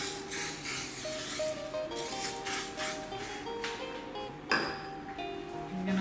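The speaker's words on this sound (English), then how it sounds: "I'm gonna use this cooking spray and I'm gonna coat this pan lightly" A continuous hiss of aerosol cooking spray coating a pan runs throughout, close and fairly loud, with faint clinks and ringing tones mixed in.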